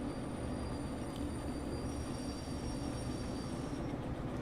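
Heavy freight train in Derail Valley rolls with some cars' handbrakes still on: a steady low rumbling drone with faint high-pitched brake squeal riding above it, alone and without talk.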